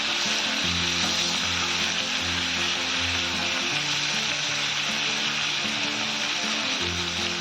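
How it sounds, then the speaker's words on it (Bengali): Fish heads coated in turmeric and salt sizzle in mustard oil after being turned to fry the second side, a constant close crackle and spatter holding steady throughout. "এবার এই পাশটা ভেজে নেব কিছুক্ষণ।"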